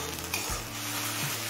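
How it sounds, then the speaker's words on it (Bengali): Susuni greens sizzle steadily in a hot pan, up close, with a brief scrape of stirring partway through and no talking. "মিডিয়াম ফ্লেমে শাকটা 7-8 মিনিট ভাজা ভাজা করে নিয়েছি।"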